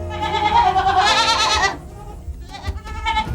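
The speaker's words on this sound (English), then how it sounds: "He's got about 170 goats to milk" Goats bleating on the Capriole goat cheese farm, one loud wavering bleat followed by a shorter quieter call, with faint farm background between them.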